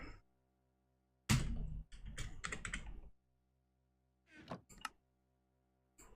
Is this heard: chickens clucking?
no